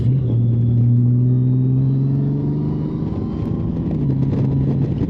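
Steady engine drone of a Honda Gold Wing motorcycle leaning through corners with a passenger aboard, a continuous loud hum with pitch sliding slightly down and up again, no voices.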